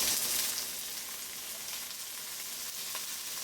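Potato and bitter gourd (karela) fry in a pan over a low flame, giving a steady, close hiss of sizzling oil with fine crackle throughout.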